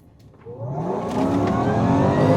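A Range Rover P525 SUV with a supercharged V8 accelerates hard at full throttle, its engine note climbing steadily in pitch and growing louder over a couple of seconds, close and with no talk.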